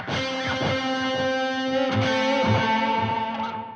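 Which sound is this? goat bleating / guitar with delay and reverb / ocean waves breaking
guitar with delay and reverb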